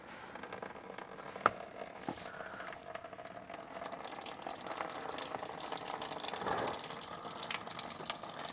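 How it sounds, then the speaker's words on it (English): Coolant trickles and gurgles out of the radiator drain valve of a Ford Ranger 3.2, a soft, continuous liquid flow close by that grows slightly louder, with a couple of faint clicks. "So I'm going to open this up and catch as much of this coolant as I can."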